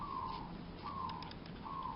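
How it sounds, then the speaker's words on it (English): Outdoor birds coo in a repeating pattern, three soft descending calls spaced evenly, faint against a quiet background with no talk. "Oh, the birds today."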